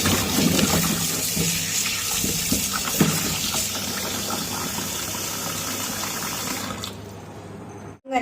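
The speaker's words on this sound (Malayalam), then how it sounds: "അങ്ങനെ മധുരക്കിഴങ്ങ് കഴുകിയെടുത്തു" Chopped sweet potato pieces being washed under running water, a steady, continuous splash and gush of flowing liquid that carries on for several seconds before cutting off abruptly.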